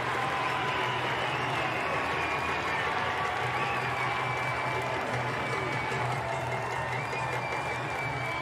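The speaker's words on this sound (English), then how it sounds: "Listen to this crowd." A home crowd at a Princeton vs Penn State college lacrosse game roars with cheering and applause after a goal, a dense, loud, steady wash of clapping and shouting that holds for the whole stretch.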